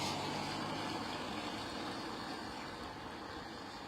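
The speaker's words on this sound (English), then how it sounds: "Engines starting up in the distance." Aircraft engines start up in the distance at Bristol Airport, a steady, broad roar that holds evenly throughout and fades slightly toward the end, with no talk.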